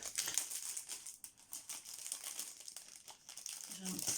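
A crinkly plastic package of Casey Art items torn open by hand, with sustained close crackling and rustling.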